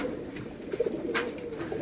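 A female pigeon coos softly and continuously in a low, throaty murmur, close by and alone without talk.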